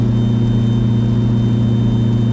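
Twin aircraft piston engines run up to 2200 RPM, making a steady, loud, close droning hum with a constant tone and no talk.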